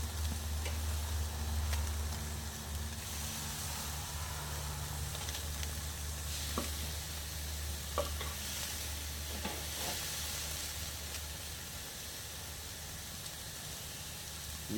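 Steaks sizzle on a hot grill in a steady, continuous hiss with a few faint clicks and taps, close and fairly loud, with no talking.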